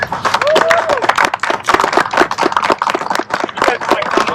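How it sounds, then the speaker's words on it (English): Families at a Cub Scout Arrow of Light and bridging ceremony clap for the boys. The applause is close, uneven and crackling, and a voice rises briefly over it early on. "Give these boys a round of applause."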